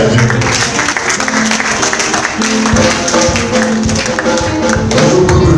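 Church congregation applauding during a French-language service, dense loud clapping that continues throughout, mixed with sustained tones of music or voices beneath.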